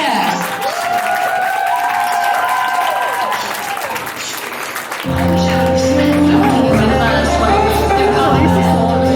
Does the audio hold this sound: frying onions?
no